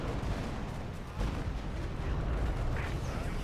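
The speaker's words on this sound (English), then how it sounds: "B4 firing again." B4 howitzer artillery fire in the Company of Heroes 2 strategy game, dense rumbling booms over a continuous battle din.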